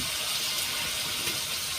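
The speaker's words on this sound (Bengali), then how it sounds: "অল্প করে একটু জল দিয়ে দেবো যাতে মশলাটা পুড়ে না যায়।" Water poured in a small amount onto ground coriander, chili and turmeric frying in a pan for a cabbage and egg dish, a steady hissing, splashing rush that stays even and fairly close throughout, with no talking.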